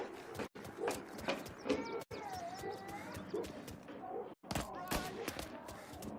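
Bursts of gunfire in the crime game Mafia: Definitive Edition, rapid repeated shots crackling continuously at moderate distance, mixed with shouting voices and clattering, with a few abrupt silent cuts.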